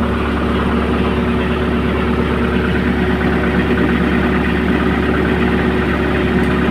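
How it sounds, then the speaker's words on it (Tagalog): A skid steer loader's diesel engine runs at low idle, a steady, close, loud mechanical hum with a constant low drone and even vibration throughout, no pauses and no one talking. "Bago magpatay ng makina, kailangan low idle muna."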